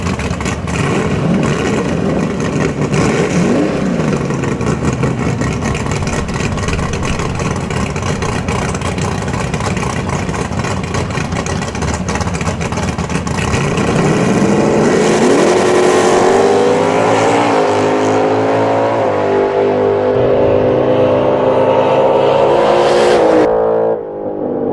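Drag racing car being tested at Virginia Motorsports Park, engine roaring loud and close, revving and then accelerating hard with a rising pitch that climbs steadily before cutting off, with the engine said to still not sound right.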